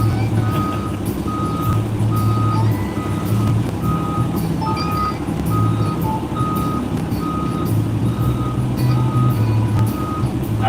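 A large truck reverses with a steady run of evenly spaced backup beeps over a loud, continuous engine rumble, close by, with no talk.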